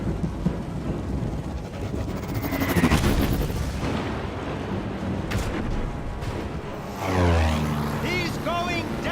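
Heavy gunfire and booming blasts fill a LEGO Marvel Super Heroes 2 cutscene, swelling loudly midway and again near the end. Character voices talk over the action.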